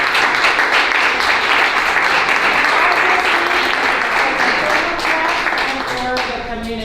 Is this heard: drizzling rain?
no